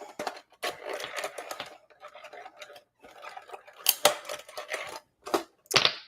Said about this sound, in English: And then we're going to put this down, die cut this out.